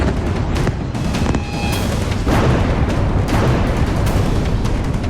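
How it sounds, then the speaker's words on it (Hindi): A missile strike slams into an eight-storey building in Beirut, Lebanon, with loud deep booms and rumbling blasts that roll on continuously, with scattered sharp cracks throughout. "बेरूत में एक 8 मंजिला इमारत को मिसाइलों से निशाना बनाया गया है"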